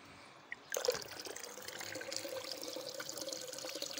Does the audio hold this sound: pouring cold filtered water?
yes